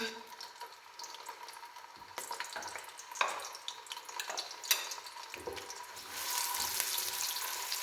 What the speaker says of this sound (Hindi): ऑयल हमारा गर्म हो चुका है, अब हम डालने लगे हैं इसमें प्याज